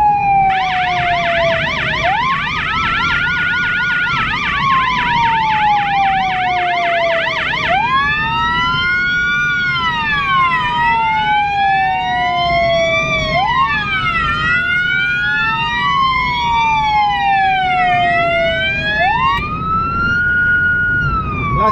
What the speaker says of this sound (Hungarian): amint meghallják, hogy jövök, akkor onnantól kezdve lezárom a szirénát